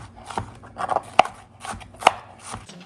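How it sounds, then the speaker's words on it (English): A knife slices through a purple onion on a cutting board for fresh salsa, making a few sharp, distinct cuts spaced irregularly, close and clear with no talking. "So now we'll slice up our onion."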